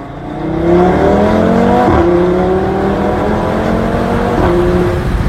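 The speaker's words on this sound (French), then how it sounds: "Ce petit diesel. Écoutez." A small 110-horsepower diesel car engine revs up and down in smooth rising sweeps, loud and close, running steadily without any voices.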